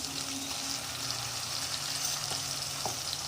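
Garlic ginger paste sizzling and frying in a pan while cooking matki usal, a steady close sizzle with a faint scrape of stirring and no voices.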